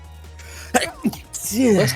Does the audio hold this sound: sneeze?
yes